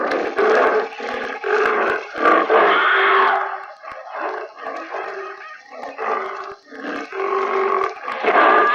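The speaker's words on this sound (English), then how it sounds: "That's a tiger." A tiger roaring in the wild, a long series of deep, rough, loud roars and growling breaths rising and falling over several seconds, close and with no talk.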